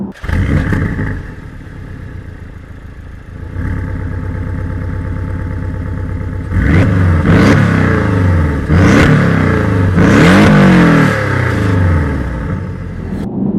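Porsche 718 Boxster GTS engine revving while driving, a loud close flat-four drone with several sharp throttle blips and rising revs in the second half.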